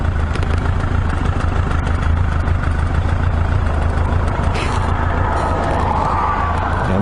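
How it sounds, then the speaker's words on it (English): A Voyager XII motorcycle engine idles steadily at about 500 RPM with a low, rumbling putter, close and constant throughout with no other sounds. "I'm only idling about 500 RPM right now"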